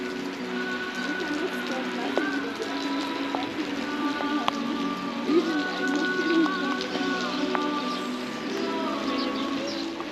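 Steady rain falls outdoors in Cappadocia, Turkey, a continuous soft hiss filling the background while birds chirp and coo intermittently nearby.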